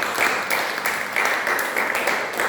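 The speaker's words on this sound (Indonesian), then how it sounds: "Beri tepuk tangan buat dia." A church congregation at a Sunday worship service claps together, a dense, even wash of applause lasting a couple of seconds.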